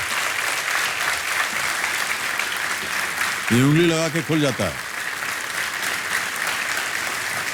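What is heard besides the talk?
studio audience applause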